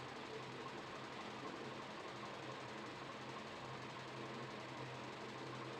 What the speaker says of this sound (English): you can now go over to your sewing machine and secure this place